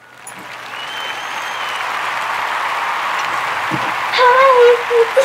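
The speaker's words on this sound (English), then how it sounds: "Give her a round of applause" A talk show audience applauds a host's entrance, clapping swelling up from quiet into a steady full round, with a brief whoop or cheer rising near the end.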